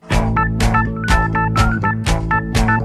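Punchy Rhodes electric piano power chords from the first half of the solo in a song, hammered in a driving rhythm, with brighter accented hits between them; loud, close and steady, with no voices.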